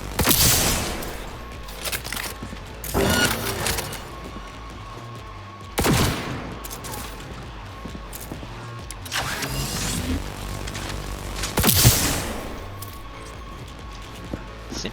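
Heavy gunfire from an 88 Magnum in the video game Cyberpunk 2077, several loud, booming shots spaced a few seconds apart over a steady rumbling game background.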